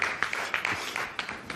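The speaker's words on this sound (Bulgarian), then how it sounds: "Аплодисменти" An audience claps briefly, with a short spatter of individual hand claps over a steady background hiss for about a second and a half.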